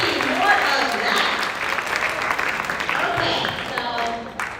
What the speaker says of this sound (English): give them a amazing round of applause